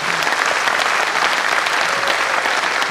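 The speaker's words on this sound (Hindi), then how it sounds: "ताली बजाइए।" A hall audience applauds at a gathering honoring elders, producing a loud, dense wash of clapping that runs steadily from start to finish with no speech over it.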